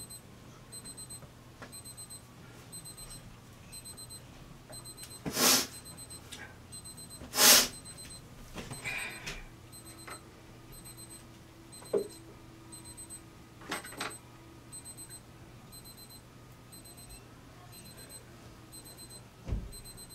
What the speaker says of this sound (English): I hope you can hear the beep from the timer.